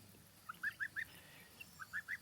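Two short bursts of goose calls, each three or four quick honking notes, carry from a moderate distance over a quiet farmyard background with chickens.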